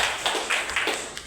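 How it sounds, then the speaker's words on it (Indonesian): Short burst of classroom applause from high school students for their classmates, a few quick, moderately loud claps in a loose rhythm. "Tepuk tangan dulu buat teman-teman."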